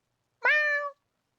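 A single drawn-out, insistent meow from Zuko, a black cat, close and clear in an otherwise silent room, lasting about half a second.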